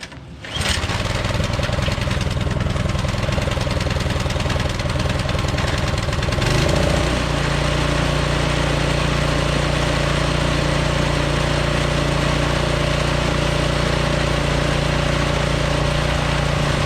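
A Kohler engine on a lawn tractor runs steadily after its carburetor was cleaned, a loud close-up drone with a strong low hum that shifts to a slightly different, steadier tone partway through, with no talk.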